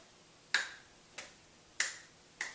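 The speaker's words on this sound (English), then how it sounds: "you can hear that upon contact there is a clapping noise." Four sharp, brief hand claps from a drummer's hand exercise, evenly spaced about half a second apart, crisp and close with quick decay in a quiet room.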